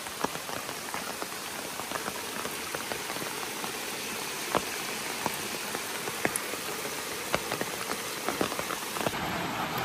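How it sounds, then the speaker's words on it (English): Heavy rain pours steadily on a trail shelter along the Appalachian Trail, a dense continuous hiss with scattered sharper drips and taps close by, loud and unbroken throughout with no voices. "as you can hear and see, it's raining really, really hard"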